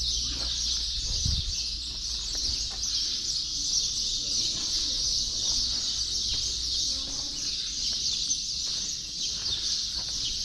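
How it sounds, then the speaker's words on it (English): Birds call and chirp inside an old stone structure, steady twittering over a constant high hiss of ambient sound, with a brief low thump early on. "I will say the sound of the birds in here is quite nice."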